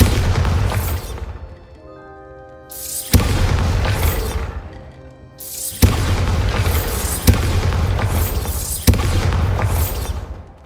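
Bombarda spell explosions in the video game Hogwarts Legacy: a run of loud, heavy booming blasts, each with a sharp onset and a long rumbling tail, recurring several times in close succession.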